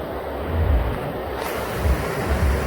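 Ocean surf rolls and washes along the shore, a steady broadband roar with low swells and wind buffeting the microphone, no voices.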